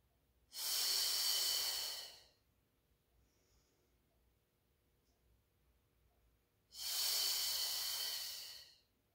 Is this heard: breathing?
yes